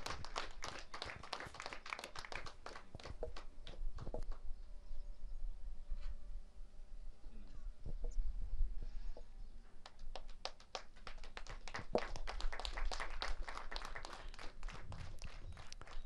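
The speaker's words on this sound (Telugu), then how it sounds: "మనమంతా గట్టిగా చప్పట్లతో, కరతాళంతో మేడం గారికి ధన్యవాదాలు తెలియజేద్దాం" Scattered clapping from a group at a police passing-out parade rises and falls, with sharp irregular claps near the start and swelling again toward the end.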